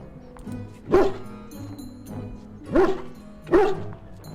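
Three deep barks from a Mabari war dog in the video game Dragon Age: Origins, spaced about a second apart, each a single strong woof, with a faint low hum underneath.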